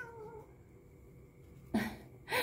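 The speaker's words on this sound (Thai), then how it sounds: "มาร้องมาขอขนมแมวเลียนะคะ" A house cat meows twice for lickable cat treats, two short close calls near the end after quiet room tone.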